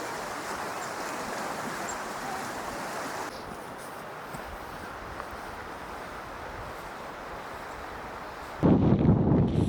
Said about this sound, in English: A 45-mile-long river with tons of camping all along the edge.